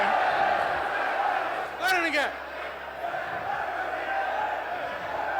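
A packed legislative assembly hall of many voices shouting and clamoring at once, with one sharp raised cry rising briefly above the continuous roar.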